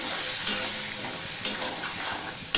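Tomato and half a spoon of turmeric frying in a pan for a Bengali raw mung dal, a steady broadband sizzle throughout with light stirring scrapes and no talk.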